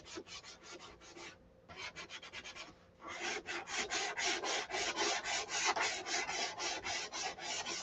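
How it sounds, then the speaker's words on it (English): Sandpaper rubbing on a model airplane wing in quick back-and-forth strokes, brief rhythmic rasps that pause for a moment and then build into a steadier, louder run, close and alone. "now there's one wing sanded out"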